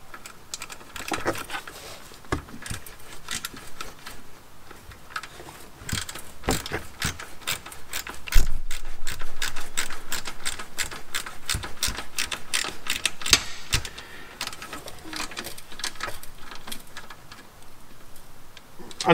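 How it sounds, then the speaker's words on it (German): Screws are tightened on the cover over a Renault Twizy's 12V battery, giving a run of close, dry ratcheting clicks and taps in uneven bursts, louder toward the middle. "dann macht er die Abdeckung wieder drauf und schraubt die erstmal fest"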